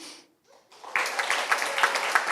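An audience at an afternoon panel discussion bursts into applause for the food vendors from Mixteca Catering, starting after a brief quiet moment and holding as steady, fairly close clapping to the end.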